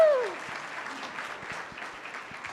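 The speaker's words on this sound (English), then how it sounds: "one more round of applause for Danielle Robinson" An audience at a business talk on elevator pitching breaks into applause, a dense, steady patter of many hands clapping that carries on evenly after a voice trails off at the start.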